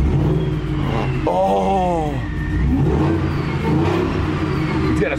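Supercharged car revving hard, engine climbing and falling through rising supercharger whine and loud exhaust roar, close and sustained, with a brief voice reacting.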